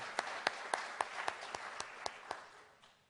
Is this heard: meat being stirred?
no